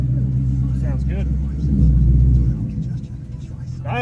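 A 2020 Ford Mustang GT V8 rumbles close by as it pulls out of a garage, with a heavy swell of throttle midway before settling, and a voice speaks briefly over it.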